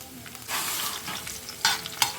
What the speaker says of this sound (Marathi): पयलीं घालया आमी लसूण आनी लसूण चड ब्रावन करनाकात.